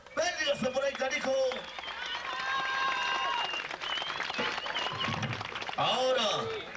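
Crowd applause for a bull rider at a Mexican jaripeo, loud and sustained through most of the stretch, with an announcer's amplified voice and music-like tones running over it.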